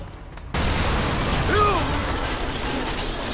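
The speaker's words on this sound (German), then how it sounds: "Hinter uns explodiert alles" A sudden loud roaring blast in the video game Watch Dogs cuts in after a quiet moment and keeps rumbling with crackling debris, dense and close throughout.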